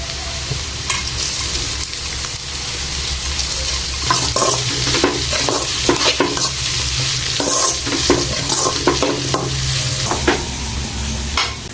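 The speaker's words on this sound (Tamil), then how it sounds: "காய் நல்லா வெந்துச்சு பழுத்து பருப்பு சேர்த்துக்கலாம் இப்போ" Soaked dal stirred into cooking carrots and beans in a pan: loud continuous sizzle with repeated scraping strokes of a spoon, close and busy from the middle onward, with no voices.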